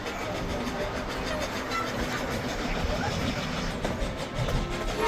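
A narrow gauge train on the Durango-Silverton railroad rumbles steadily as it pulls away, with a low rolling drone and faint crowd noise mixed throughout.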